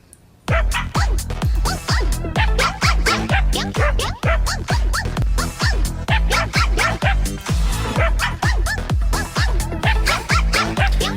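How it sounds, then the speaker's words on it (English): Video game music built from a steady, bouncy stream of short yappy notes, like a pack of small dogs barking in rhythm over a deep pulsing beat. "It sounds like little dogs barking."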